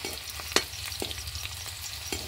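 Onions and garlic fry in a pan with a steady close sizzle, and spatula strokes add periodic scrapes and clicks. No voices are heard.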